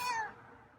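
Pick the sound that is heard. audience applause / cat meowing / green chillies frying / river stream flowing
cat meowing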